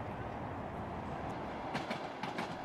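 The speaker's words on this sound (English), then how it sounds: "Our train is now traveling through Siberia towards Novosibirsk." A private Trans-Siberian train travels on rails through Siberia toward Novosibirsk: a steady, close rolling rumble with a few sharper wheel clicks near the end.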